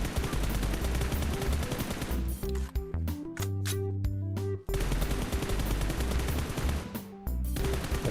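Rapid automatic gunfire in PUBG Mobile aim practice fires in long dense strings, loud and close, broken by a brief pause with a few sharper single shots before the rattling bursts resume.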